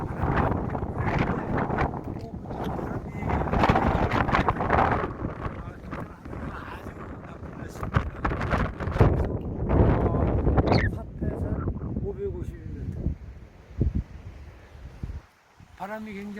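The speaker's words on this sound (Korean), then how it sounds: "산에 바람이 이렇게 불고 기온이 굉장히 극하고 등산하기에는 아주 위험한 날씨인 것입니다" Strong gusts buffet the microphone on the rocky summit of Sapaesan mountain, 552 m, in harsh cold, a loud continuous roar that rises and falls under a voice.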